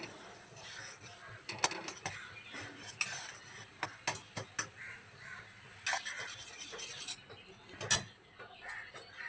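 A spoon stirs khoya into milk in a pan, scraping and clinking against the metal in quick, uneven bursts at close range.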